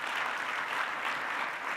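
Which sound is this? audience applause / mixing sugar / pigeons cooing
audience applause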